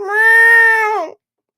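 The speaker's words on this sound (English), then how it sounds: "Oh, there's your cat." A cat gives one loud, close meow lasting about a second, with a clear steady tone that bends down at the end before silence.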